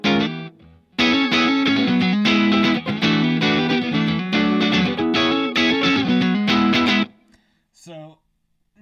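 Electric guitar through a Strymon Iridium set to a crunchy Marshall amp tone, played as a loud, sustained run of distorted chords and notes that stops abruptly near the end, followed by faint tail noise.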